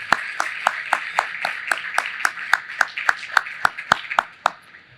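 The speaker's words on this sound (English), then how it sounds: "I'd also like another round of applause for all of today's speakers and panelists, Marshall, Scott, Avi, Jessica, and Liz" Sparse applause at an award luncheon, about a dozen distinct hand claps in a slow, fairly even rhythm, moderately close, with no talk over it.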